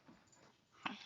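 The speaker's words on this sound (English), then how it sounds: "So I have my outside dog inside and he is playing with the puppy." A dog plays with a puppy indoors, giving soft faint whimpers and a short yip near the end over quiet room sound.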